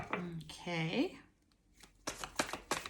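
Tarot cards are shuffled in a few quick riffled bursts near the microphone, following a stretch of talking at the start.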